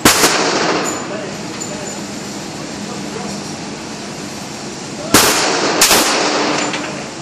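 Two sharp loud reports from a 1911 pistol fired outdoors by a man in a turban, spaced about half a second apart near the end of a stretch of steady background noise.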